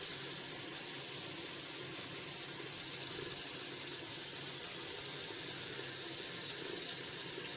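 Water runs from a tap in a continuous, steady rush while a shaving razor is rinsed under it, close and even throughout with no voices.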